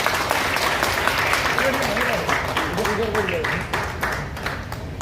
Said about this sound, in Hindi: उनके लिए जोरदार एक बार ताली हो जाए।